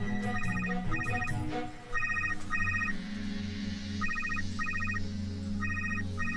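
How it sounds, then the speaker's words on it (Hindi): A mobile phone rings indoors with a repeating pattern of bright double electronic trills in regular bursts, over a low music-like hum, preceded by a few brief knocks or clatters. "रुको, मैं फोन लगाती हूँ।"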